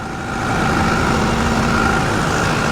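A skid loader's engine running at a steady idle nearby, a continuous low mechanical drone that holds even throughout, with no voices.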